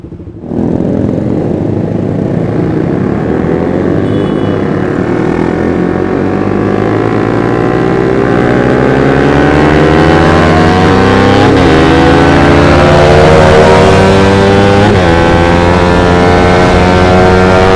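Motorcycle engine revving up through a long, steady acceleration and climbing pitch, loud and close, with brief dips at shifts before rising again.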